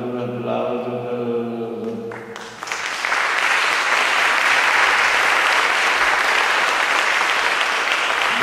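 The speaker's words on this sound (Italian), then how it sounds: "possiamo salutarlo con un applauso" Church audience applause swells in after someone speaks, dense steady clapping from many hands filling the space, loud and sustained for several seconds.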